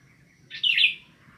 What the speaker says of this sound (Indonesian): Terima kasih burung, kau datang untuk menghibur dan menguatkan kami.